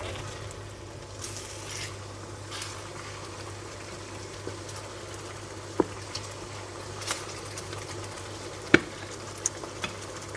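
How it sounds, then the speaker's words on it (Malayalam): Lemon pickle mixture with added water boiling hard in a pot over a full flame, a soft steady bubbling hiss with scattered pops and occasional stirring knocks, close and alone. "ഫുൾ ഫ്ലെയിമിൽ നന്നായിട്ട് തിളച്ചു തുടങ്ങിയിട്ടുണ്ട്"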